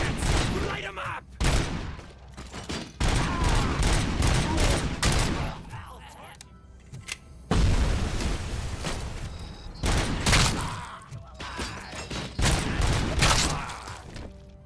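Repeated bursts of gunfire from RoboCop: Rogue City, loud and close, rapid volleys broken by short pauses across the whole stretch, with a voice talking at points.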